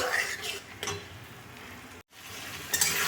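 Tomatoes and potatoes frying in a pan over a medium gas flame, a continuous sizzle with a few scraping stirs and a brief dropout midway, no speech.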